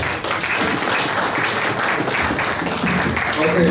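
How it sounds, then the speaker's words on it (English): Steady applause from a conference audience in Ghana fills the clip, a dense wash of clapping that holds at an even level throughout. "let's give him another round of applause."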